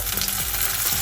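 Chopped tomatoes hitting a pan of frying jackfruit curry, a brief burst of loud close sizzling and bubbling oil with a soft stirring scrape.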